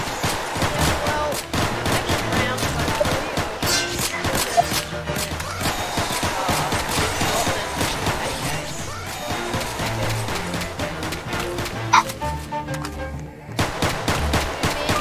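Gunfire in the video game Bloodfest, a dense, steady barrage of shots and crashing impacts that runs without letup, with pistols as the weapons at hand and busy game audio layered throughout.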